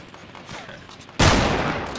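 Gunfire in the video game Fortnite: a quiet stretch with faint game sounds gives way to a sudden loud, sustained burst of shots.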